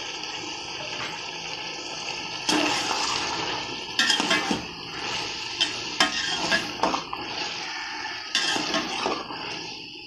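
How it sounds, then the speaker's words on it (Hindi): Steady sizzling of potatoes frying in a pan with occasional scraping and stirring clatter, close and continuous throughout. "अब मैं आलू डाल के एक दो मिनट तक इनको फ्राई कर लेती हूँ।"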